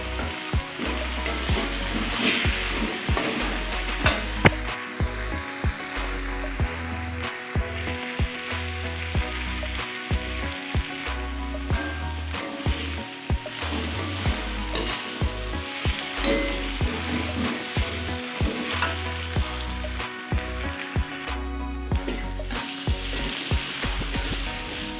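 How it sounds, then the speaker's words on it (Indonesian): Green chilies and bird's eye chilies stir-fried in a wok for tripe, with a constant loud sizzle and a rhythmic scraping and clanking of the spatula repeating steadily, close and with no talk. "Kita tumis sampai harum."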